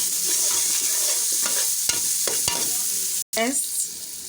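Chopped onions and pepper are stirred in a hot frying pan. A steady sizzle runs under repeated close scraping strokes of the spoon, with a brief dropout near the end.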